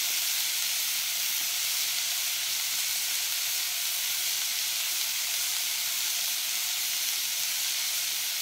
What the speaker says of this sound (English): we're gonna sear the skin side down first